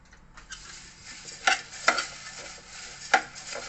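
Puffed rice mixture for Indian street food being stirred and tossed, giving a continuous dry rustling scrape with three sharper clattering knocks of a utensil against the bowl, close and fairly quiet, no talking.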